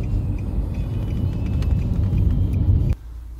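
A car drives along a road near Kramatorsk, a steady low rumble of engine and tires heard from inside, the noise dropping suddenly near the end.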